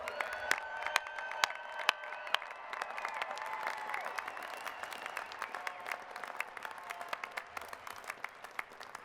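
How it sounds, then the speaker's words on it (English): Sharp, close claps hit a microphone at a 2021 University of Idaho spring commencement, standing out over a steady wash of crowd applause and scattered cheers that continues throughout. "I clapped into the microphone again"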